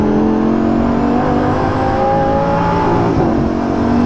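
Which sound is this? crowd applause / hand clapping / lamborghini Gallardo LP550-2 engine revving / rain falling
lamborghini Gallardo LP550-2 engine revving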